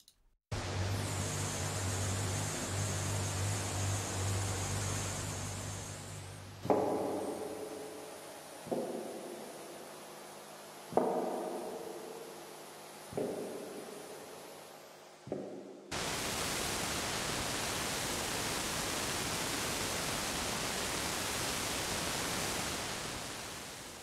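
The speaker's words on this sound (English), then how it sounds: "This one's more a sort of noise backdrop to just add a little bit of extra interest into your patch." A broad synthesized hiss holds steady, broken by a few soft swelling tones that fade, then returns as a bright, even wash of noise.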